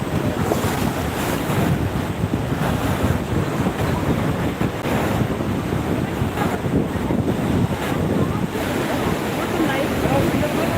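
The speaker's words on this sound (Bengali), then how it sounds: "কেমন লাগছে মান্দারবনের সৈকত" Ocean waves on Mandarmani beach with strong wind buffeting the microphone, a constant broadband roar of surf and gusts throughout, no clear breaks.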